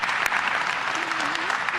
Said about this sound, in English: Jay, I'm sorry, please raise your hand and receive a hand of applause.